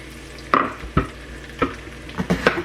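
Sliced apples stir and sizzle as they cook down in a pan for apple fritter French toast casserole, with a soft sizzle under several distinct scraping and clattering strokes of a utensil against the pan.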